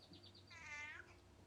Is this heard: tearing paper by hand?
no